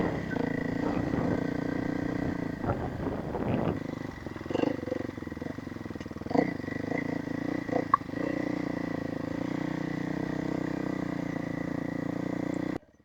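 A motorcycle engine runs at high RPM while riding, producing a steady droning roar heard up close for most of the span, with a few brief clunks and rattles before it cuts off abruptly at the end.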